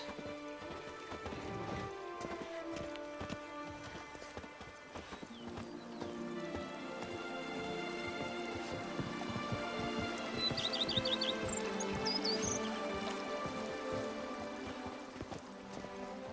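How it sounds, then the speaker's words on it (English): Horse hooves clopping at a steady gallop in The Witcher 3, set against a full orchestral soundtrack that continues throughout. "Even a horse drops if you ride it at a constant gallop."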